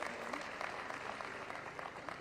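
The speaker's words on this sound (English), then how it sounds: "Give her a round of applause." An audience at an event in Kenya applauds a newly introduced speaker, a steady spread of clapping from many hands, moderately distant and continuous throughout.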